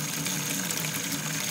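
Water pours from a tap into a basin holding baking soda, a short, steady, close rushing stream with no speech.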